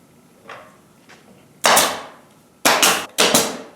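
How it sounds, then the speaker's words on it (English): A nail gun drives nails into wood: a few faint taps, then three loud, sharp pneumatic bangs with short hissing decays, the last two closer together. "Quick and easy way to put things together is using a nail gun"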